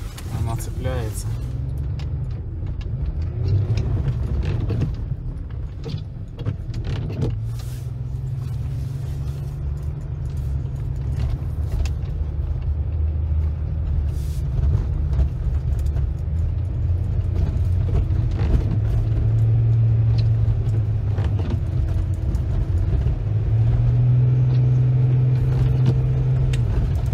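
A BMW E53 drives on an icy road, its steady low engine and road rumble continuous and close inside the cabin, with someone talking over it.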